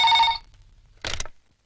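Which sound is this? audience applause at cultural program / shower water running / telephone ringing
telephone ringing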